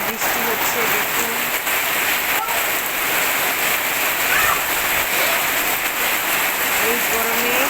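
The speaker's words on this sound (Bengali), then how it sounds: "মুষলধারে জোরে বৃষ্টি হচ্ছে।" Heavy torrential rain pours down in a sudden downpour during hot weather, a dense, loud, steady hiss of water on surfaces that lasts throughout with no break.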